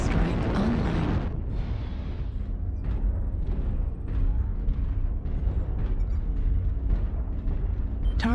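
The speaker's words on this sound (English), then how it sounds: "Artillery strike online." Artillery strike landing in the mech combat game Mechwarrior Online, a loud opening blast followed by a dense, rumbling barrage of overlapping booms and detonations that rolls on continuously.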